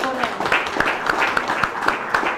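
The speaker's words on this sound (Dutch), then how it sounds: "Mag ik een warm applaus voor hen?" Applause for nursing and vaccination staff at a COVID-19 briefing, a modest group clapping in a loose, fairly regular rhythm of distinct hand claps heard close and clear, with a faint voice murmuring underneath.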